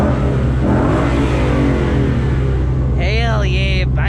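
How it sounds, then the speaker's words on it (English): A 2016 Ford Mustang GT with the 5.0 V8 roars loud and close through a sustained second-gear pull, the engine note climbing steadily before a voice shouts over it near the end. "here's a second gear pull, baby"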